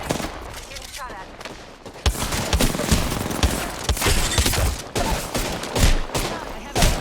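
Rapid bursts of automatic gunfire and sharp single shots from Apex Legends Arenas, loud and dense in rattling volleys, while someone talks over the fighting.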